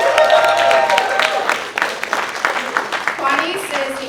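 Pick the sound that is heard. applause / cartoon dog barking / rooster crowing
applause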